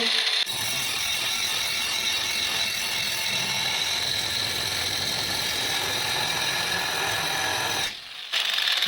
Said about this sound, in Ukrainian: А болгарка не зупиняється.